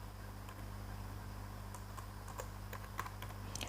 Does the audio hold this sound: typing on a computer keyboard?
yes